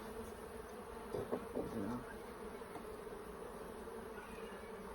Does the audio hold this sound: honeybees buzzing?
yes